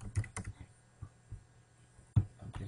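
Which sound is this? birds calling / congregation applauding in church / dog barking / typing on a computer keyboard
typing on a computer keyboard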